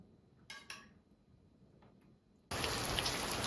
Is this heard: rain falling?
yes